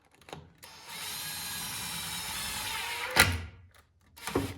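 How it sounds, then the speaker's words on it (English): A power drill runs steadily for a couple of seconds, driving a screw into a pre-drilled sacrificial board. Short knocks and handling sounds come before and after the whir, close by and with no talking. "I'm going to anchor that with a couple of screws."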